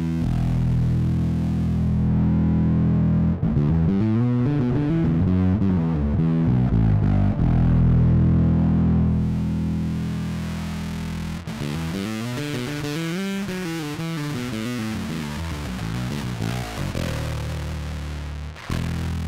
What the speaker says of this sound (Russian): Давайте послушаем сейчас, как у нас влияет ручка тона на фуз.